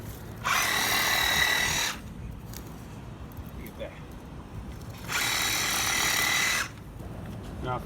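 A reciprocating saw cuts through African iris plants in two loud, harsh buzzing bursts of about a second and a half each, with a quieter stretch of background between them.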